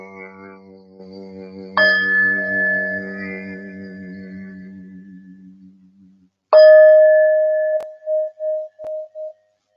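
A metal singing bowl is struck twice, each strike leaving a bright sustained ring; the second rings alone, then pulses and fades in short wavering swells.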